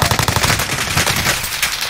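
Rapid automatic gunfire from a Call of Duty Warzone match, loud and close, with a fast stuttering burst of shots that thins toward the end.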